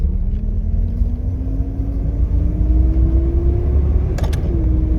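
A Nissan Skyline with a three-speed automatic, held in first gear, gives a loud steady engine drone and road rumble whose pitch rises slowly, then drops briefly near the end.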